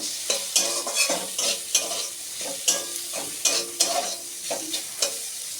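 Tomato goes into a frying pan of bread upma and is stirred, a spatula scraping and knocking in repeated close strokes over a steady sizzle.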